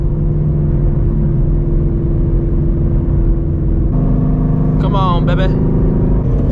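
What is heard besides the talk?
520HP Shelby GT350 Mustang engine revving during hard pull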